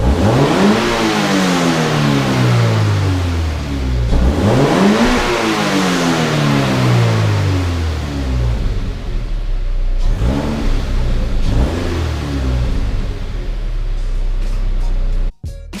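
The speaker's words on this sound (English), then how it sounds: "we're going to give you a little startup vid and some revs" A Toyota 86 with an MXP Comp RS exhaust revving: loud rising and falling engine sweeps, several long revs climbing then dropping back to idle, close and continuous, ending abruptly.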